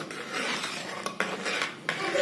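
A spoon stirs fried gulab jamun from an instant mix through syrup in a metal pot, making a close scraping sound with a few knocks against the pot's side.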